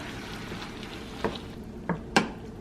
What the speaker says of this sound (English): then just keep mixing it